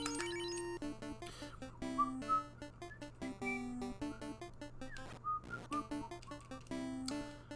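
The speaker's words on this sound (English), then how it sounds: "Don't really have anything to say, so I just whistle aimlessly." A person whistling aimlessly over a Final Fantasy game, with a wandering run of short whistled notes and bursts, interrupted by brief clicks and a steady low hum underneath.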